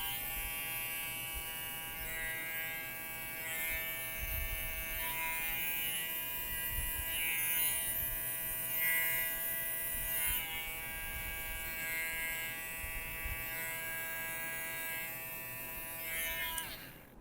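An electric hair clipper trims a beard line during a barbershop fade, its steady high-pitched buzz close and continuous, with slight shifts in tone as the blades move across the hair.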